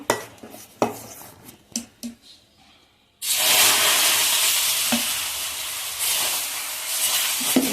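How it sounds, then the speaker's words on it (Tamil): Green gram dosa batter hits a hot pan with a sudden loud sizzle that keeps hissing steadily, after a few light clinks and scraping taps. "நம்ம மாவு ஊற்றுவோம்"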